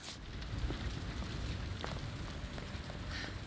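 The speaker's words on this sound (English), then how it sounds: "More rain." Steady rain pours down in the video game Resident Evil 2, a dense continuous hiss with a low rumble underneath and scattered droplet ticks, with no voices over it.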